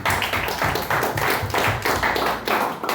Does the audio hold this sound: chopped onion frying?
no